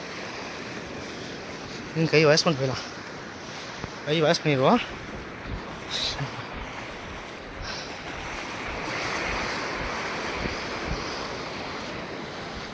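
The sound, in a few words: sea waves crashing on the shore at Dhanushkodi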